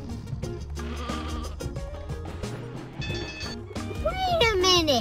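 Sheep bleat repeatedly in the video game Sheep dog 'n' wolf, with rising and falling cries over game music and someone talking throughout.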